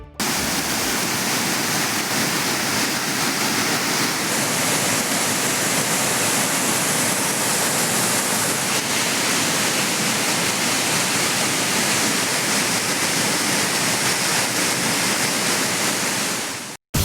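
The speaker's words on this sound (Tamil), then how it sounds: "குற்றாலம் உள்ளிட்ட அருவிகளில் மேற்கு தொடர்ச்சி மலைப்பகுதியில் பெய்து வரும் தொடர் மழையின் காரணமாக நீர்வரத்து அதிகரித்து வெள்ளப்பெருக்கு ஏற்பட்டுள்ளது" Courtallam waterfall in the Western Ghats running in flood after days of continuous rain, a dense unbroken roar of rushing water that stays loud and constant throughout.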